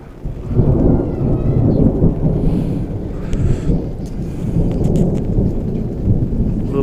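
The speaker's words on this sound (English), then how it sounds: "A little bit of thunder." Rolling thunder rumbles low and heavy through a rainstorm at Cedar Hill State Park campground, long deep swells under a steady hiss of rain and gusty wind buffeting the microphone.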